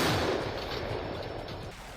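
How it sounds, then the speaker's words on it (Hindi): Russian artillery brigade cannons firing pinpoint shells at Ukrainian fortifications in Sumy: a loud, rough roar of blast noise that fills the clip and fades only slightly. "तोपों से पिन पॉइंट गोले भी दागे गए।"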